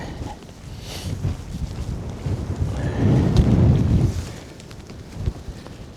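Gusty wind buffets a winter wild camp pitched in deep snow on Stybarrow Dodd. A steady broadband roar swells into a stronger gust midway through, then settles back to a constant rush, with no voices.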